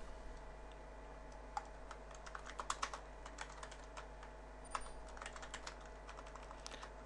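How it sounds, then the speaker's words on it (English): Typing on a computer keyboard while configuring network routers, scattered quiet key clicks in short irregular bursts over a steady low hum. "My typing's getting sloppy."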